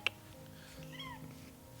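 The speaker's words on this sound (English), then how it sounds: "come here, kitty" A pet cat lets out a single faint, short meow indoors near a fireplace, heard alone after a brief click.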